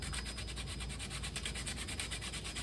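Light hand sanding of wooden puzzle piece edges with sandpaper, a steady rhythmic rasping of quick back-and-forth strokes, close and continuous throughout with no voices.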